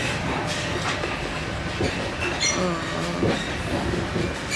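A passenger train travelling to Kyiv, heard from inside: a steady rumble of running wheels on the rails with intermittent squeals and clatters, fairly loud and continuous.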